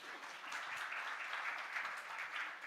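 A conference audience at ThinkEdu 2023 in a hotel hall gives a round of applause, a soft, even wash of many hands clapping that holds steady throughout, heard from a distance.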